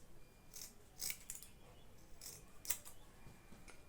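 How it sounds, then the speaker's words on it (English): Scissors snip through the fabric seam allowance of a sewn cap, trimming it to a quarter inch. The cuts come as several crisp, close snips in short irregular bursts over a quiet background. "So after sewing just 2 by ½ inch, I'll be trimming my sewing allowance."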